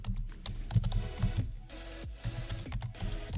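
Someone typing a search on a computer keyboard, a quick run of soft, close key clicks in irregular bursts with brief pauses, no talking.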